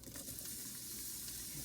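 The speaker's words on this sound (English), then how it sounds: "I'm just gonna sizzle in the pan because I have the pan ready." Chopped onions sizzle in a hot pan for a Portuguese fava bean stew, a steady close frying hiss that runs evenly from start to finish with no voices.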